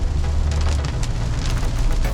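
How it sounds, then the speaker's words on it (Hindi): Heavy rain pours onto a car windshield while driving through a forested area, a loud, dense drumming of drops with a low rumble of the moving car underneath, steady throughout with no talking. "और यहाँ झमाझम बारिश, मेरे वाइपर की स्पीड से ही आप अंदाज़ा लगा सकते हो कि कितनी तेज पानी गिर रहा है फिलहाल शीशे पर"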